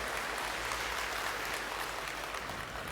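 Audience applause at an anniversary gathering in Panglong, a steady diffuse wash of many hands clapping, moderately faint and continuous throughout with no clear voices.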